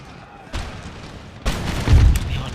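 Artillery fires in an Empire Total War battle: heavy booms land close and loud, a couple of sharp onsets with a deep rumbling burst near the end, over battlefield noise and some talk.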